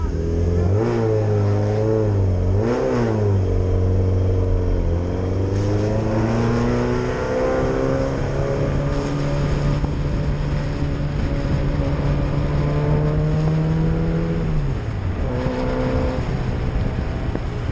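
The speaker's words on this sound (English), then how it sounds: "All the audio you're hearing is actually Dave's car." A race car circuits a track, its engine loud and near, revving up through the gears with rising harmonic pitch, dropping briefly and climbing again, with no voices.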